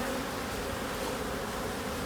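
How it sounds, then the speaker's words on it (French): Honey bees buzzing densely around a hive in winter, a thick continuous close-up hum of many wings with no pauses. "C'est quand même des abeilles de compétition."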